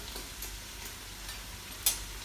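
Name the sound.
beef, garlic, peppers and onion frying in a pan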